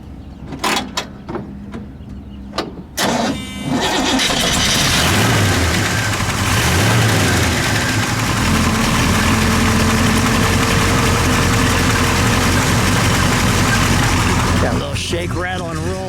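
A 1967 Oldsmobile 442 W-30 with a 400 cubic inch, 370-horsepower engine settles into a loud, steady, close idle after a few clicks and knocks, with brief voices near the start and end.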